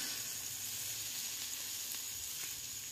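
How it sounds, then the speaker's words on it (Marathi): Food fries in hot oil poured over it from a pan, giving a steady, close sizzle with a continuous hiss and no voices. "हे बघ असं छान मस्त चरचर आवाज पण येत आहे, सगळं फ्राय होत आहे छान."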